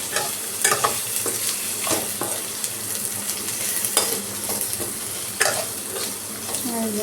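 Boiled, pre-fried elephant foot yam is tipped into a hot pan and stirred, with loud, steady sizzling broken by repeated sharp scrapes and clinks of the spatula against the pan.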